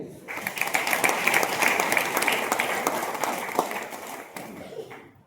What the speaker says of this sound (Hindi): हाँ, एक बार ताली बजाएंगे।